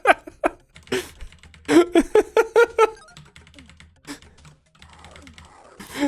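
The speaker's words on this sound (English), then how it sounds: "The keyboard mashing and the excitement." Rapid, uneven bursts of computer keyboard mashing during a gaming session, a flurry of loud clustered keystrokes up close, then lighter scattered tapping, with no talking.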